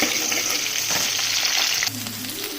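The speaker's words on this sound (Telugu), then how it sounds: "బాగా వేగిన తర్వాత ఆనియన్స్ వేసుకోవాలి." Onions frying in oil in a pan after green chilies, for a chicken curry, a loud close bright sizzle that drops abruptly in strength near the end, with a low hum underneath and no voices.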